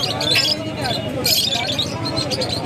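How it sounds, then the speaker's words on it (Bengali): A single male Giribaz pigeon at a busy bird market, with chirps, squawks and bird calls rising over a steady murmur of crowd voices and close talk. "একটা পায়রা দেখাচ্ছি আমি সিঙ্গেল নর পায়রা গিরিবাজ পায়রা"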